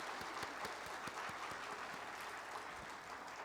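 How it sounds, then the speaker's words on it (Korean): Church congregation applauding at a New Year Sunday worship service, a soft, distant, even patter of clapping with a few sharper claps standing out. "하나님께 박수로 영광 돌렸으면 좋겠습니다."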